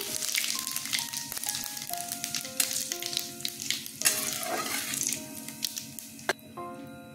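Dry chilies, bay leaf and whole cumin sizzle and crackle in hot mustard oil in a wok, with close, steady frying hiss and scattered sharp pops and spatters.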